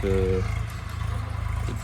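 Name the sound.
tractor ploughing a field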